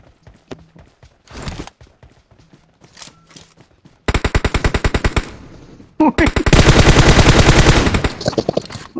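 Rapid automatic gunfire bursts in a PUBG match, with scattered shots first, then loud sustained rattling volleys that run for several seconds and pause briefly between bursts.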